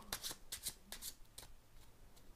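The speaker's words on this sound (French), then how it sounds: "Et maintenant, je vais mélanger." Repeated riffle shuffles of a deck of playing cards during a magic trick, several crisp bursts of flapping card noise, close and clear, fading toward the end.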